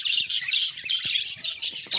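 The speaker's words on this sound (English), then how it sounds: "There are so much budgies." Many budgies chirping together, a busy continuous chatter of bright high tweets and squawks, close and moderately loud with no talking.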